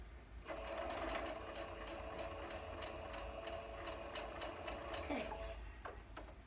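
A sewing machine stitching half-square triangle quilt blocks runs steadily and close by for several seconds with a rapid mechanical chatter, then slows and stops near the end.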